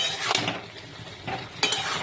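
A vegetable curry of spinach, cabbage, pumpkin, radish, carrot, eggplant and potato is stirred in a cooking pot. A spoon scrapes softly in a few short strokes, with a faint bubbling simmer underneath and no voices.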